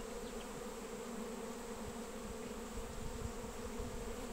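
Honeybees buzz at the hive, a steady, dense drone of many insects that holds at an even level for about four seconds. The buzzing is faint and continuous with no voices.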